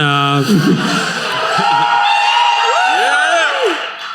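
A live audience at a Pathfinder 2E tabletop game show cheers and whoops in a loud burst, and a voice rises above the crowd noise.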